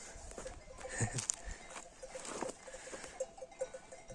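Startled sheep flock moves across a field with clanking bells ringing irregularly, hoof scuffling and occasional bleats, fairly near, with a dog among them.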